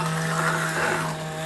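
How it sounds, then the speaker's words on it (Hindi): A kitchen grinder whirs briefly with a steady, loud motor hum and whine while coarsely grinding chaulai sabji. "थोड़ा सा ऐसे नॉर्मल हम ग्राइंडर घुमा देंगे।"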